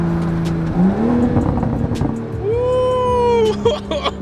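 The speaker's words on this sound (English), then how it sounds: "I hope you guys can hear those pops" A loud Toyota GR Supra with a modified exhaust and downpipe revs and drones up and down, with crackling exhaust pops between the throttle blips, close by.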